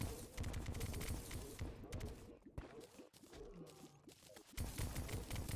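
Rapid, dense weapon fire in Terraria chatters continuously as ammunition streams out, a steady rattling barrage with a brief dip midway before it resumes, fairly quiet and without talking.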